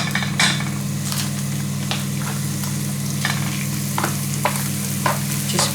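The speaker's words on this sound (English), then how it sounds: "When the wok is hot, I'll start to put this beef mince in." Beef mince frying in a hot wok of garlic-infused olive oil, a steady loud sizzle throughout with scattered clinks and scrapes of stirring.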